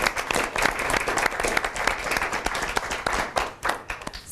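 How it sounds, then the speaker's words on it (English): Audience at a brand-building talk applauds with dense, continuous clapping for several seconds, loud and close, with no voices over it. "So let's give a big round of applause to Greg Linnell."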